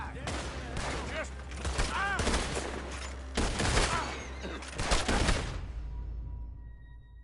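Dense gunfire in Red Dead Redemption 2, repeated rifle and pistol shots in clustered bursts over a steady low rumble, with voices shouting amid the shooting before it cuts off.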